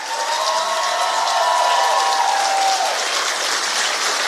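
Steady, dense audience applause filling a hall as two co-founders, a husband and wife, are welcomed to the stage, with a brief high tonal whistle or feedback line riding over the clapping for the first few seconds.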